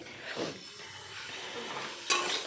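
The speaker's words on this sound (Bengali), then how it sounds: "আলুগুলোকে আমি লাল লাল করে একটু ভেজে নেব" Potato pieces fry in hot oil in a pan with a steady, low sizzle, broken by soft stirring scrapes and a brief sharper clink near the end.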